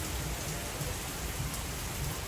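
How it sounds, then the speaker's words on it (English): Steady rain falls at Magic Kingdom on a foggy day, heard from aboard a waiting train: a continuous, even hiss of drops with a faint tonal hum above it and no talk. "It's rain and fog."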